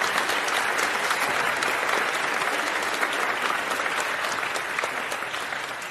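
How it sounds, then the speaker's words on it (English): Sustained applause from a concert audience at a memorial concert, a dense, steady wash of many hands clapping throughout, fading slightly toward the end, with no talking over it. "yes, extra applause."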